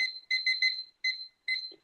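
A kitchen timer beeps in quick rapid-fire bursts, a pattern of short shrill electronic chirps repeated several times with short gaps, close and clear.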